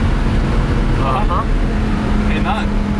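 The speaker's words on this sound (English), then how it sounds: "Still half throttle." A 1,200-horsepower twin-turbo Lamborghini Huracan drones loud and steady at half throttle, heard from inside on a rough road, with people talking over the engine.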